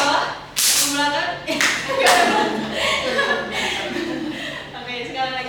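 Hands clapping in a classroom clapping game during a guidance-counseling microteaching session: several sharp, irregular bursts of group clapping, interspersed with a spoken voice and light chuckles.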